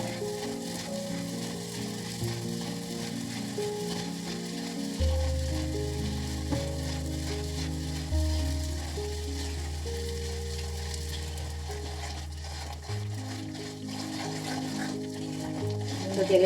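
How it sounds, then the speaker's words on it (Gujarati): Edible gum (gond) fries in hot ghee, giving a steady close sizzle throughout with a few soft stirring knocks and no talk. "એ પણ ગરમ ઘીમાં સારી રીતના શેકાઈ જાય, ફૂલાઈ જશે મસ્ત સરસ રીતના"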